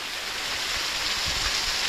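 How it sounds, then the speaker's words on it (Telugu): A waterfall in the Nallamala forest near Srisailam gives a steady, full rushing roar of falling water, close and continuous, with no voices. "ఇంత నల్లమల ఫారెస్ట్లో ఇంత మంచి వాటర్ ఫాల్స్ చూసారు కదా"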